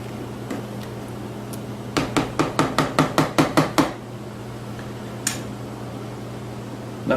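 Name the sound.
stirring cooking plums in a pot for jam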